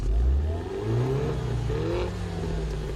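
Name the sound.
turbo car engine starting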